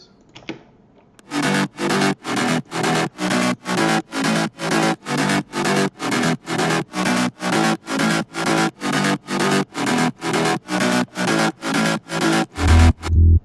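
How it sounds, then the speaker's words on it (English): A synth bass layer from an electronic music track plays alone, a steady run of evenly spaced, punchy notes pulsing in a regular rhythm, loud and close throughout. "Then the bass sounds like this."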